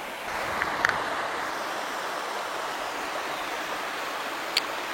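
A small waterfall barely trickling, giving a steady, continuous rush of water noise throughout, moderately loud, with a couple of faint brief clicks.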